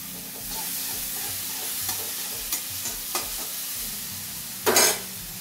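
Green chutney sizzles in hot oil over fried tomato and onion for a Marathi usal, a steady broadband fry with scattered spatula scrapes and a sharp burst of spitting near the end, no voices.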